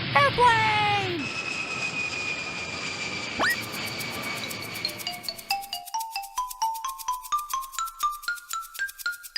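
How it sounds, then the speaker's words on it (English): Airplane flying past with a steady roaring engine drone, followed by a rising run of bright musical chime notes in a cheerful sequence. "Airplane!"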